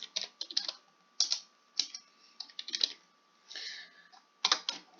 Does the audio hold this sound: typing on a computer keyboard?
yes